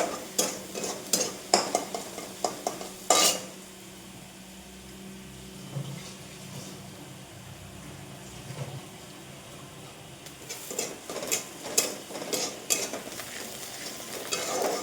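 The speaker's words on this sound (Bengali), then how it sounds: "পালং শাক ভাজা করবো আজকে" Spinach stir-fries in a pan with garlic and dried chilli, bursts of sizzling and scraping stirs with utensil clatter coming and going, quieter in the middle stretch.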